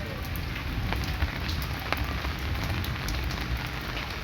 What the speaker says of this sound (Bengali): হালকা হালকা বৃষ্টি পড়ছে